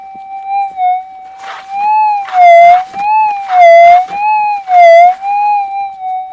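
Gold-hunting metal detector in Victoria's Golden Triangle sounding off on a deep target through an external speaker: a loud, near warbling tone that wobbles up and down in pitch, with bursts of rustling scrape noise in between.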